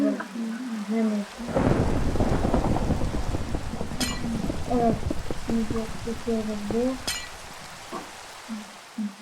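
Steady rain with rolling thunder in the Minecraft video game, the downpour swelling in loud and holding under a voice talking over gameplay, with short sharp clicks scattered through.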